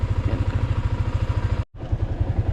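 Motorcycle engine idling close by with a fast, even chugging pulse, loud and steady, briefly cut off by a short dropout before resuming the same rhythm.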